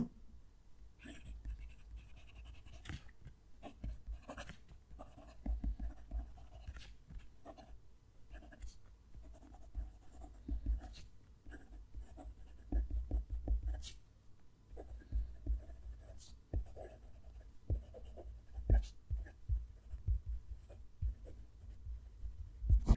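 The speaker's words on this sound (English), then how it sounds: "move the mic down to the page and write a sentence with each pen. So we'll start with the Jinhao 100." A Jinhao 100 fountain pen nib scratches across paper with a close-miked microphone, faint continuous scratching with soft strokes and occasional taps and bumps as a sentence is written.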